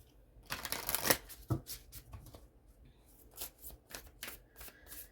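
A deck of Moonology oracle cards shuffled by hand during a card reading: close, crisp riffling flutters and soft slaps in irregular bursts, with quieter card handling between them.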